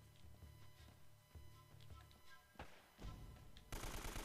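Rapid bursts of AK-47 automatic rifle fire in the shooter game Uncharted: Drake's Fortune, crackling in short volleys at moderate volume, with a louder, denser stretch of shots near the end.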